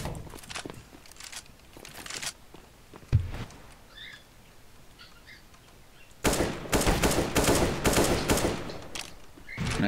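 Bursts of automatic gunfire and sharp single shots from a Counter-Strike: Global Offensive match, with a dense, loud volley filling the last few seconds and footsteps between the earlier shots.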